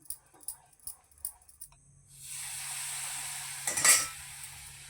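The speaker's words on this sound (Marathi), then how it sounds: "सतत ढवळत राहायचं आणि तूप जळकं वापरू नका." Besan stirred in hot ghee for Mysore pak: a few scraping strokes of a spoon in the pan, then a steady close sizzle of frying that swells for a moment, with no voices.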